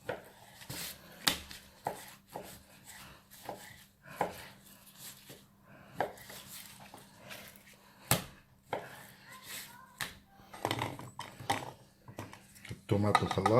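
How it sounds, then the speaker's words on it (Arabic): A knife chops shish tawook chicken on a board in a home kitchen, irregular sharp knocks in bursts with pauses between them, close and clear, with a person talking over the chopping. "طبعا احنا بنقطع هلا الشيش طاووق"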